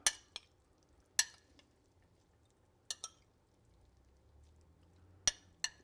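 Harissa chicken sauce being mixed in a pan: a few quiet, separate clinks and scrapes of a utensil against the pan, spaced irregularly in a near-silent kitchen.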